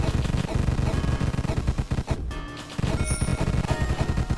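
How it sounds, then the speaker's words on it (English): Rapid gunfire bursts from weapons in the video game Deathstate, loud and dense, with a short lull midway before the firing resumes. "the firing and burst with our axes is actually amazing"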